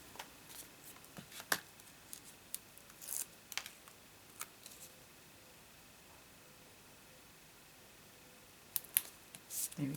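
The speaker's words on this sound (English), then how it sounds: "let's cut it a bit shorter and maybe I'll avoid that" Scissors snip through paper and card while a pop-up greeting card is trimmed, with quiet, scattered cuts across a soft background hiss and a brief burst of snipping near the end.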